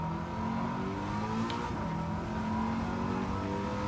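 Race car engine in Gran Turismo 7 revving hard past a McLaren F1, a loud sustained roar with rising and falling pitch and a brief whoosh midway, no talking.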